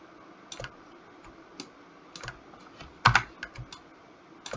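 Computer keyboard keys are tapped during UV mapping work, scattered single clicks and short clusters of presses, soft and close, with one sharper double tap near the middle and no talking.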